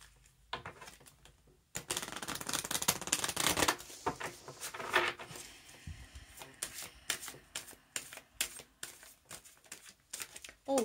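Oracle cards being shuffled by hand, a close, continuous run of papery riffles and flicks with irregular bursts and brief pauses, heard alone without talk.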